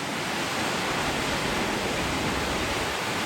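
Miners Falls pours in a dense, steady broadband rush, loud and unbroken throughout, with no voices.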